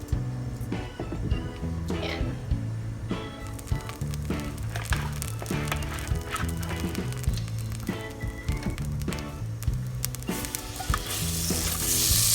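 Shrimp sizzling in a hot pan as it is sautéed for Filipino mung bean stew, a steady crackling fry with clinks of stirring utensils, close and continuous.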